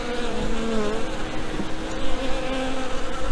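Honey bees buzzing around a farm beehive, a close, wavering drone of many wings with shifting pitch, continuous and fairly loud with no voices.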